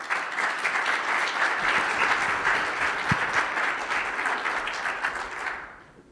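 An audience at a speaker series event claps steadily to welcome the guest speaker, a dense, even round of applause lasting several seconds before fading out at the end.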